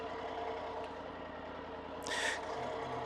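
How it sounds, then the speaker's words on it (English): A heavy Triumph Tiger motorcycle engine runs steadily on a rocky, off-camber trail, a low, even rumble with a brief airy hiss about two-thirds through. "Heavy motorcycle."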